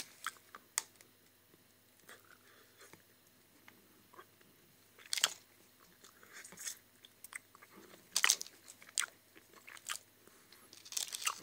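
Someone bites and chews Konti chocolate-covered caramel candy, the Golden Lily kind, making sharp crunches and quieter chewing in an irregular rhythm, close and fairly faint.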